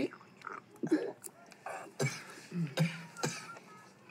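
A sick man coughing indoors, a few rough, throaty coughs and throat-clearing sounds broken up by short pauses, close by, with quiet voices around him.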